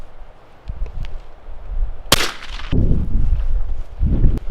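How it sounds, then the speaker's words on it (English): A single sharp .22 Long Rifle gunshot fired into plexiglass, one loud close crack with a brief rumbling tail, set against outdoor background noise and scattered small knocks. "All right, so this is the 22 long rifle."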